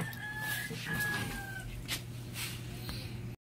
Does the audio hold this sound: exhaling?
no